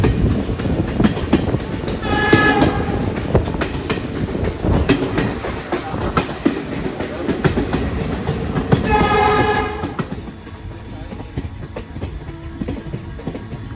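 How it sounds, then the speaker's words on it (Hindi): A train runs through the Goa hills toward Dudhsagar, passing over bridges and through tunnels. A steady rumble and clickety-clack of the wagons carries throughout, with the horn sounding twice, and the rolling noise softens toward the end. "यहाँ ट्रेन कभी ब्रिजेस से गुजरती है, कभी लंबी अंधेरी टनल से, या कभी वाटरफॉल्स के पास से।"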